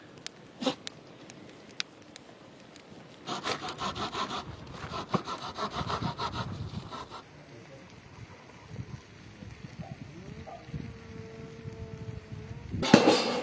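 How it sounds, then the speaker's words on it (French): A hatchet cuts wood at a hiking campsite barbecue, with bursts of close, rasping strokes over a quiet outdoor background. "même la hachette, en vrai, elle découpe bien quand même"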